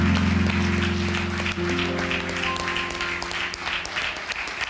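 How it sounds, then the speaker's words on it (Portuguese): A church congregation applauding during a service, with moderate clapping running beneath sustained organ or keyboard chords. "Vamos aplaudir o Senhor."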